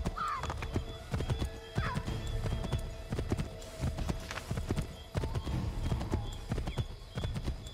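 Horse hooves clip-clop steadily at a riding pace in Assassin's Creed III, with a horse neighing at the start and a rhythmic, close trot continuing throughout.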